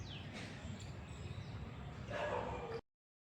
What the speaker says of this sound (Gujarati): કૂતરું બોલે છે તો બહારની સાઈડ